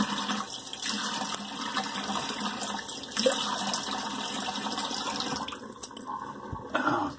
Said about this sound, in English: Let me rinse this alum off.